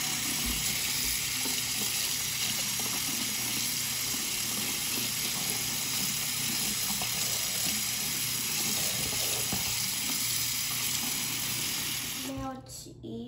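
A tap runs steadily while something is washed off in a sink, a continuous close rush of water that holds loud throughout before cutting off near the end, with faint voices underneath.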